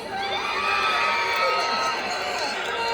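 A large crowd at an outdoor birthday rally in Davao cheers and shouts with whoops, a loud sustained roar filling the whole stretch, with an amplified voice calling out over it.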